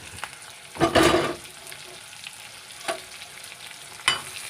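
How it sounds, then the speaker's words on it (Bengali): Chopped onion and split green chilies fry in hot oil, with a loud burst of sizzle as they hit the pan and then a quieter crackle broken by a few sharp stirring knocks. "আমার তেলগুলো গরম হয়ে গেছে এবারে পেঁয়াজ কুচি এবং কাঁচা লঙ্কা চেরা দিয়ে দিলাম"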